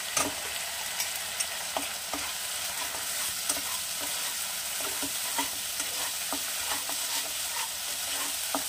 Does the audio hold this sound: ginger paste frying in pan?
yes